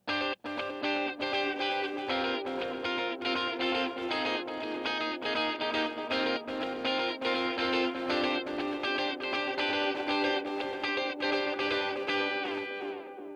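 Demo track for a free tape echo plugin set to saturated repeats: a dense, distorted musical passage of repeated echoing notes with smeared, gritty trails, sustained loudly throughout without talk.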